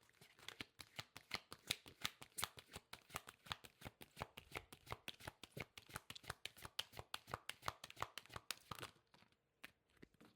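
Tarot cards being shuffled by hand in a rapid, steady run of crisp riffling flicks, close and fairly quiet, continuing for about nine seconds before stopping, with no talking.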